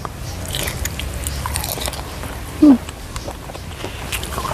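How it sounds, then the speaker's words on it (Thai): Someone bites into a large boiled shrimp dipped in a fermented fish sauce dressing. A single loud, close crunch lands midway, with faint chewing and mouth sounds around it and no talking. "คำแรก จิ้มอันนี้ก่อนเนาะกุ้งตัวใหญ่ๆเลยมากินตัวกันเนาะ"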